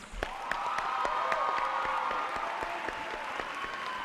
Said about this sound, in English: Please join me in a round of applause for our recipients.